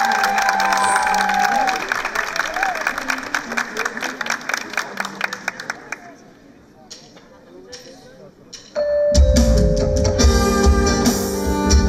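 Audience at a teachers' singing competition final in Van applauds singer İdil Eres, a dense patter of clapping and cheering through the first half that thins out before music starts.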